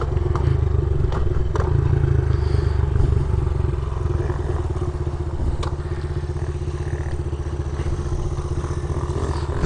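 A dirt bike engine, likely a Suzuki DRZ400 or Magician 250, idles and revs steadily outdoors before a short race, with a loud continuous low engine drone throughout and occasional clatter.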